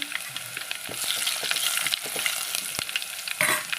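Two chillies fry in hot oil in a pan while tempering cucumber dal, giving a steady bright sizzle with scattered crackles and stirring clicks, close and continuous with no talk.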